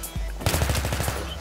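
Rapid automatic gunfire from the video game Battlefield 2 on the Strike at Karkand map: a loud, close burst of evenly spaced shots that runs steadily through the moment after a brief lead-in.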